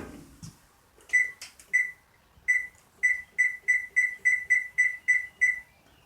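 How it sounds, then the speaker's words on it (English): An oven beeps repeatedly while preheating to 400 degrees for homemade cornbread, giving about a dozen short, evenly spaced electronic tones that grow steadier after a few irregular clicks and handling noises at the start. "First, I have to preheat the oven to 400 degrees."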